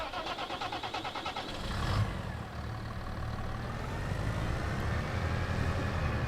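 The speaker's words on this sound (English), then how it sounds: "Massey just has enough horsepower to get this job done, I believe." A Massey Ferguson tractor engine in Farming Simulator 25 starts with a quick pulsing crank, then settles into a steady, fairly loud running drone that swells slightly toward the end.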